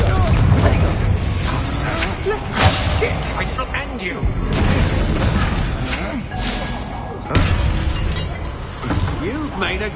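A Confringo blast curse goes off in the video game Hogwarts Legacy, loud explosive booms and shattering crashes bursting repeatedly among whooshing combat effects in a busy, continuous battle mix.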